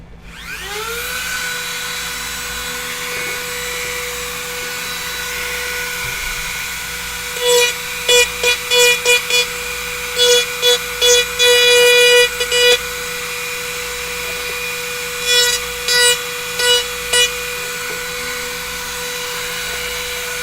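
A rotary tool with a tapered stone bit whines at a constant high pitch, with several short bursts of harsher grinding as the bit bites into plastic, close and loud.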